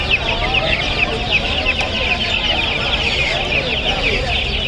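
Native chickens clucking steadily at a busy poultry market in Tongi, a dense continuous flock chatter filling the clip with loud, close crowd noise and faint voices beneath.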